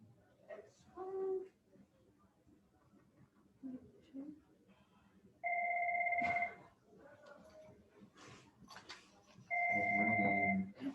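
A telephone rings in two separate bursts of a steady electronic two-tone trill, about a second each, in a classroom where people talk quietly in between.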